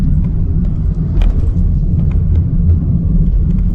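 A 2009 Honda City automatic coasting with no throttle, heard from inside as a steady low rumble of road and engine noise, even and continuous with no rise in revs.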